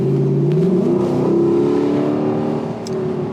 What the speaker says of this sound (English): That 5-liter naturally aspirated V8 kicking out 471 horsepower, 398 pound-feet of torque, all rear-wheel drive.